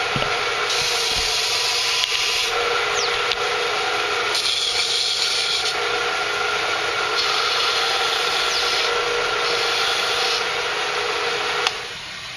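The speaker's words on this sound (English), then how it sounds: "Do a little bit of sanding." Sanding a wooden Native American flute by power tool: a steady, close whirring grind in repeated bursts that rise and fall in intensity, ending with a brief tapering.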